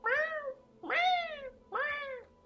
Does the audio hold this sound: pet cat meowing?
yes